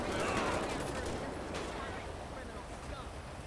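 Dense, rapid gunfire from a shootout in GTA 5, sounding as a loud crackling volley that slowly thins and fades over a few seconds.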